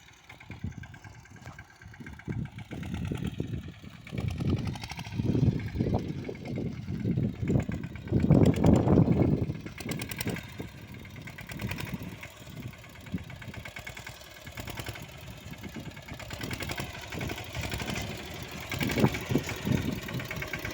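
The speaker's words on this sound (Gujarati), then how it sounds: "એ પાળિયા બાંધવા માટે યુવરાજ ટ્રેક્ટરને બમ્પર જોડ્યું છે" A Yuvraj tractor fitted with a bumper for building field ridges for tobacco seedlings runs nearby. Its engine thumps in a steady low chug that swells and eases, heard alone without talking.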